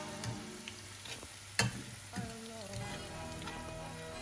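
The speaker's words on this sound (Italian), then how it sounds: "Aggiungo le uova battute" Beaten eggs poured into a pan of wild asparagus frying, with a gentle continuous sizzle, a sharp clatter partway through, and soft stirring sounds afterward.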